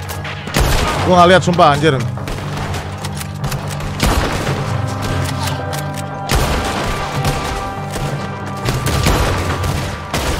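Gunfire in a Red Dead Redemption 2 shootout, several loud cracking shots and booms scattered through the clip while someone talks over the action.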